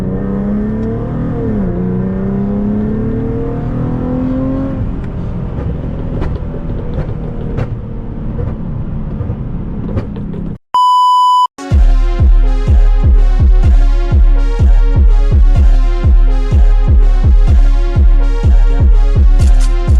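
A 400 hp Infiniti G37 revs and accelerates through a drive, its engine note rising and climbing. After a brief pause, steady music with a pulsing beat takes over.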